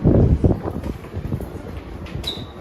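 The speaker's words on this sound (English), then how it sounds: "super windy" Strong gusts of wind rumble against the microphone on a Brooklyn street in New York City, loud at first and then easing to a steadier low buffeting.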